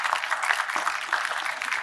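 Audience at a policy dialogue clapping to welcome a speaker, a short burst of steady applause from a seated crowd.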